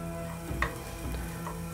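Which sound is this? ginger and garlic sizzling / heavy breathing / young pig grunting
ginger and garlic sizzling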